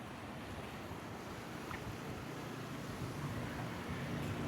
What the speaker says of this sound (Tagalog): Mahangin dito, no.